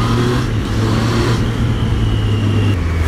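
A Triumph Street Triple 765 RS motorcycle with a new exhaust pulls hard on a winding road, its engine holding a loud, steady droning growl that shifts in pitch as it accelerates, with wind rush behind it.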